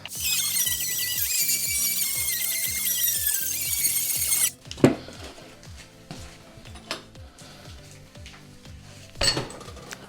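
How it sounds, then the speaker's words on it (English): A die grinder shrieks loudly as it grinds steel tubing to fit a flanged bearing, then stops, leaving scattered metallic clinks and taps of handling. "So I'm gonna die grinder it"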